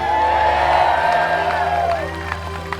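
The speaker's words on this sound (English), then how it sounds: "give yourself a round of applause" Stadium crowd cheering at a football event, a loud roar of voices with whoops and some clapping that gradually eases down over a few seconds.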